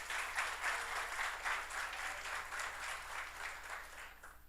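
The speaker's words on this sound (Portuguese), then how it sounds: "Você pode aplaudir a Jesus?" Congregation clapping in a church service, a sustained wash of applause with slight rhythmic swells, fairly distant and even, fading near the end.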